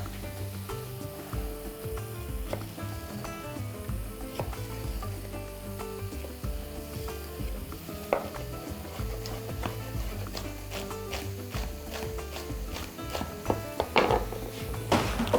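Onions sizzle in a pan for beef ribs, a continuous close crackle with occasional stirring scrapes and clinks of a utensil, growing busier toward the end.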